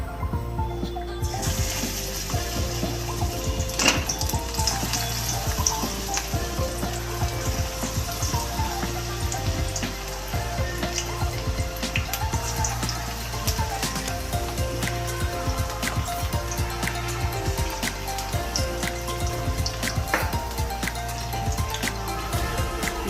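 Sanai flower pakoras frying in hot oil in a kadhai: a steady, dense sizzling bubble that runs continuously at an even level throughout.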